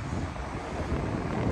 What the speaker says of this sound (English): Kind of blustery today.